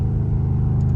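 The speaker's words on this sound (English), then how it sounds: "What y'all think about those downshifts in sport, man?" A loud Dodge Scat Pack downshifting in sport mode gives a deep, steady exhaust rumble with a brief rising rev, close and continuous for about a second with no talking.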